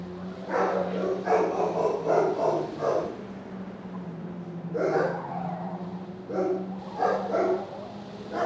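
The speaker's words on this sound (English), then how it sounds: "those puppies, they are barking today" Puppies barking repeatedly in uneven clusters of yips and bow-wows, fairly close, with a low steady hum underneath and no talk.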